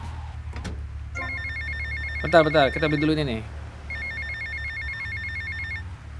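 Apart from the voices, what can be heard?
phone ringing in video game GTA Vice City Definitive Edition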